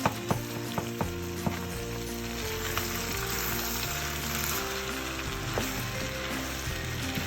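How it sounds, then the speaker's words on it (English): Egusi balls cook in a pot with a steady, close sizzle and bubbling, joined by a few light taps and stirring knocks near the start and scattered later. "I'm gonna start to break the goosey balls after about 15 minutes of cooking"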